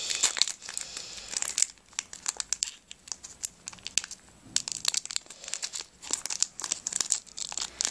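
A trading card booster pack's foil wrapper is torn and crinkled open, close and loud, with rustling and crackling in rapid bursts, a brief pause, then more crinkling.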